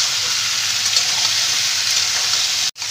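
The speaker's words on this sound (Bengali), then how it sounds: "এবার সবগুলো একসাথে আমি ভালো করে ভেজে নেব।" Vegetables with turmeric and salt frying for a Malabar spinach curry, a loud continuous sizzle in a pan with faint stirring, broken by a brief cut near the end.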